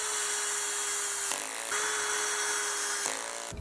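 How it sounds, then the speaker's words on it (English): A power saw cutting plywood for camper van kitchen shelving, a steady high whine with a fixed tone that dips in pitch at brief moments under load, running continuously and close. "use like a jigsaw to cut that out"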